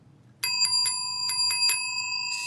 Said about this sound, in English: Look at this vintage counter bell.